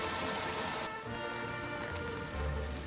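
Light rain patters steadily on foliage beside a forest stream in the Thai hills as the shower eases, a quiet, even hiss with soft drops and no talking.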